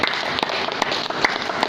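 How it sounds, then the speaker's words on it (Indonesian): A church congregation clapping in a worship service, with dense, steady applause and a few sharper claps standing out over the short stretch. "Tepuk tangan buat Tuhan"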